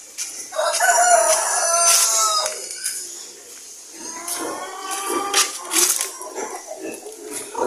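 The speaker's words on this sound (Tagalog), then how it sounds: "Ito naman ang ating barako. Ang ating Rhode Island." A Rhode Island rooster crows twice nearby, a long drawn-out call followed by a second, rougher one, with other chickens clucking and faint background noise in between.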